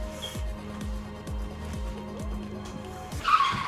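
Tires squeal as a race car skids off the track in a sim racing video game, a sharp screech over the repeating whine of several engines shifting gears, with a brief burst of noise near the end.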